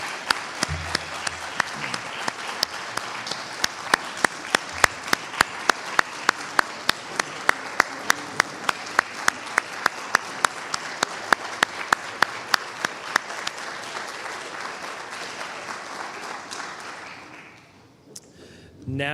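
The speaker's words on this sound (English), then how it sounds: "let's give another round of applause for all the speakers tonight" Audience applause at an athletics hall of fame induction ceremony, a loud sustained round of many hands clapping with a few sharp claps standing out, fading toward the end.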